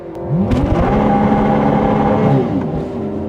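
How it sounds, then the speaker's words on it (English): A Ferrari 296 GTB Assetto Fiorano engine revs hard through a burnout, a loud, close, sustained roar that rises and holds in pitch before easing off near the end, heard alone without voices. "first pass in the Ferrari 296 GTB. I'm gonna give a little burnout here."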